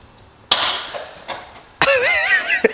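Sharp metallic clacks and a whirring, ratcheting buzz from a tool loosening bolts on a Nissan 350Z during a coilover fit, in short close bursts.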